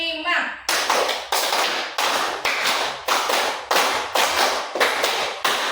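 A group of children in a classroom concentration game claps in sharp unison, sounding three quick sets of five crisp claps in a steady rhythm, loud and close, with a brief voice at the start.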